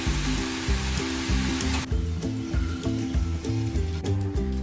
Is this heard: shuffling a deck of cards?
no